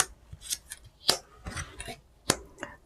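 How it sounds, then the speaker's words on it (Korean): Tarot cards being laid out for a weekly fortune reading, giving a series of sharp papery snaps and slaps at irregular intervals, close and fairly clear with no talking. "카드 나열을 해보고요"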